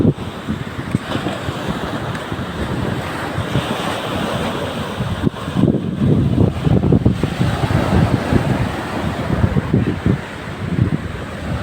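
Heavy ocean surf crashes and rolls continuously, loud and near, with strong wind buffeting the microphone throughout.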